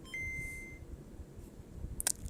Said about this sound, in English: I always forget to silence my phone.